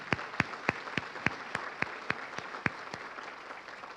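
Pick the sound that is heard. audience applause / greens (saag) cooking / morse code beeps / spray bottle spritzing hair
audience applause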